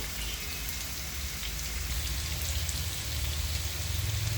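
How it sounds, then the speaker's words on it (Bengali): Pieces of koi fish sizzle in soybean oil, a steady dense crackle like light rain that thickens slightly toward the end, with no voices. "মাছগুলো ভেজে নিচ্ছি"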